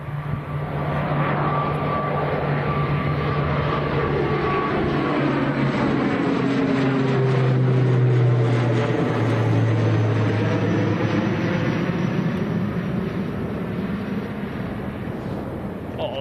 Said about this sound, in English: This looks like Logan Air that's coming towards us. Getting up really early. So this is an ATR 72.